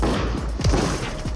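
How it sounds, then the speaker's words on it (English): A grenade thrown in the Fortnite video game lands with a few dull thumps and a low boom amid loud, busy battle noise. "Nope, I'm gonna chuck a grenade."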